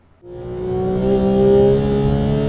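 Porsche 991.2 GT3 on a race track, its engine bursting in after a brief quiet and climbing into a loud, steady high-revving wail that holds close for the rest of the moment.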